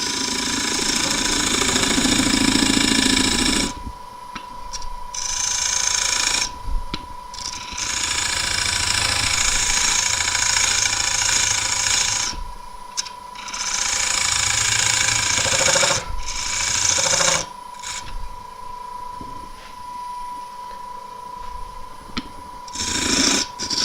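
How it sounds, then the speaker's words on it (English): A wood lathe runs with a 10mm round skew chisel cutting a tenon, giving a loud, steady whirring and scraping drone that stops and restarts several times in bursts. "I'm going to put the tenon on with a square. Oh, it's not square, is it? It's a round skew"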